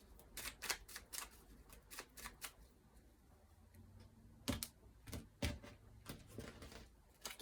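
Tarot cards being cut and shuffled by hand, a series of quick riffling snaps and soft slaps in irregular bursts, close and fairly quiet, with no one talking.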